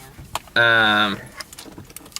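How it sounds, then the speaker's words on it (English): Car keys jangle in light, scattered metallic clicks around a loud, sustained tonal beep that lasts about half a second. "You got the keys."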